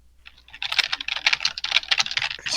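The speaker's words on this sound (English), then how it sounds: "Those keyboard sound effects, bro." Rapid clattering keystrokes on a computer keyboard, steady and close, filling a couple of seconds without any voices.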